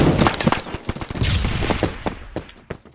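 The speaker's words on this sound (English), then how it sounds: "why are we shooting each other?" Rapid gunfire in the Roblox shooter Phantom Forces, dense overlapping bursts of automatic shots and louder single cracks, close and loud, thinning out toward the end.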